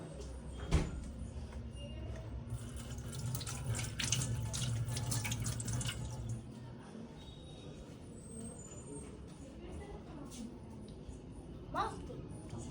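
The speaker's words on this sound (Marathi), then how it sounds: "थांब मी धुवून आणतो." Tap water gushes steadily into a sink while something is washed by hand in a home kitchen, running loud for about six seconds before shutting off, leaving quiet room tone and a faint voice.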